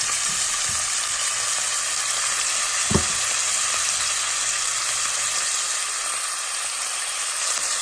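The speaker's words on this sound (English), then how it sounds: "We're just going to saute a little bit." Bell pepper, onion, celery and carrots sauteing in a pan for lamb shanks and gravy, a steady close sizzle and fry with one sharp clack of a utensil partway through and a faint low hum beneath.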